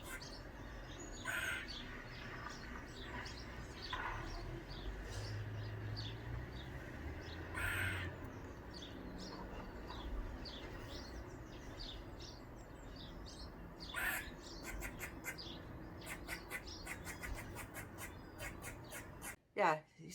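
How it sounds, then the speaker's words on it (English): A young squirrel screams in shrill, harsh bursts at irregular intervals outdoors, with scattered bird chirps and faint background ambience. "it was a juvenile squirrel. And my God, was it screaming."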